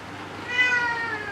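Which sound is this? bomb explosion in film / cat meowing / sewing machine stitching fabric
cat meowing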